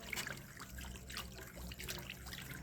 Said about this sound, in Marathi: जे झाकण आहे त्या झाकणाने एक पाव आपण परत यात पाणी टाकून द्यायचं